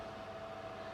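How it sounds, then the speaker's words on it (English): A temporarily plugged-in electric fan runs with a steady, even hum and a faint constant whine, close by and with no talk over it. "So I've plugged the fan in temporarily."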